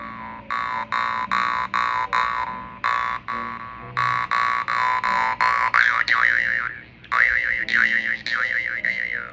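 A jaw harp twangs in a steady series of buzzy, resonant plucks. The notes are close and loud, with occasional pauses and a wobbling, vowel-like tone later on.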